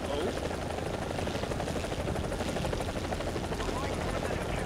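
A helicopter in the War Thunder combat game gives a loud, steady rotor thrum and engine drone that fills the scene without a break, while a player talks over it.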